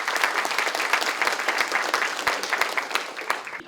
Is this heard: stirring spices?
no